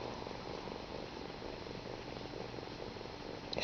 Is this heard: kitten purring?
yes